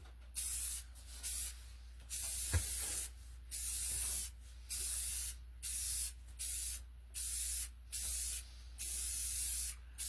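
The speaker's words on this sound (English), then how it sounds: "So just spray them with gloss, clear coat." Repeated bursts of gloss clear coat spray from an aerosol can, about a dozen short hissing passes in a steady rhythm, close by with brief pauses between them.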